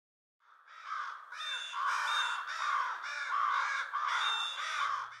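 Blue jays mobbing a great horned owl: a flock of harsh, raspy jay calls overlapping in a dense, nearly continuous chorus that starts abruptly and stays loud and close throughout.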